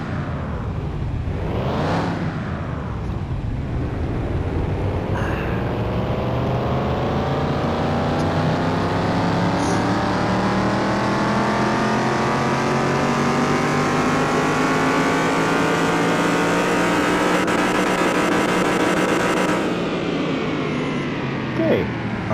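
A truck engine in Car Mechanic Simulator 2021 runs on a dyno, revving up steadily with rising harmonic pitch over about twenty seconds, loud and continuous, then dropping off near the end.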